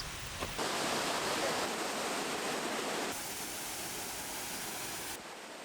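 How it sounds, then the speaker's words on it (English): A waterfall in the Spanish Pyrenees roars as a steady, broad rush of falling water. Its level drops partway through and again near the end. "there's this waterfall"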